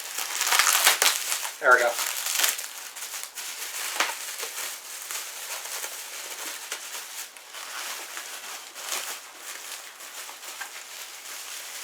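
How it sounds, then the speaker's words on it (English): Crinkling and crushing of plastic packaging as a purchased item is unwrapped, loud bursts in the first few seconds settling into softer rustles, with a voice speaking briefly. "I'm going to have to unwrap it."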